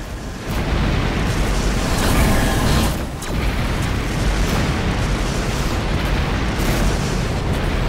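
Incoming missiles exploding against a destroyer-class ship in the space combat game Rebel Galaxy, heard as a loud, dense, continuous roar of blasts with a brief dip near the middle.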